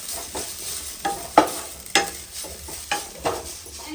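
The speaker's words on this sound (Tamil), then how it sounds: "நெய் சேர்த்துட்டு தேங்காய் துருவல் வந்து எடுத்திருக்கேன். இதை போட்டு நல்லா வதக்கிடலாம்" Grated coconut roasting in ghee in a pan, a steady low sizzle broken by several sharp scraping stirs of a utensil against the pan, fairly close and with no talk.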